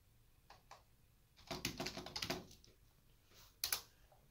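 Keys clatter on a computer keyboard as a short search for Chrome is entered on a Windows 10 PC, a couple of isolated taps followed by a quick burst of rapid typing and one final firm keystroke, close and alone.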